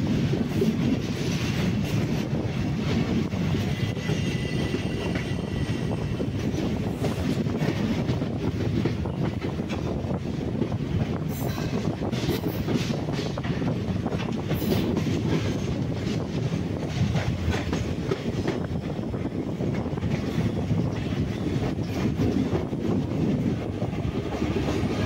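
The Vanchinad Express runs into Kollam Junction railway station in the morning, with a continuous rolling roar, steady clickety-clack over rail joints and occasional wheel squeals, heard from on board.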